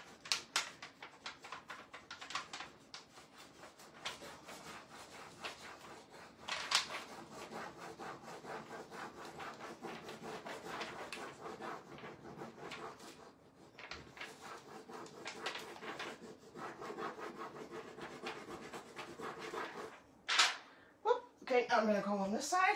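Rubbing a heart transfer onto an antique wooden fireplace screen, a soft, rhythmic back-and-forth scraping over wood with occasional knocks as the screen shifts, while someone talks over it.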